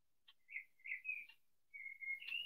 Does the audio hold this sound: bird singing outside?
yes